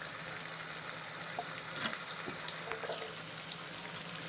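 Sliced onions sautéing in a pan for chilli meal maker, a steady close sizzle and crackle of frying with a few faint stirring clinks, and no talking.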